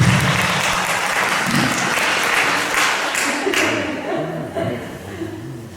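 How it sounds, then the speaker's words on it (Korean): A church congregation applauds during an Easter worship service, a steady, loud, dense clapping that fills the room, with a voice beginning to speak over it as the clapping thins near the end. "한번 박수합니다."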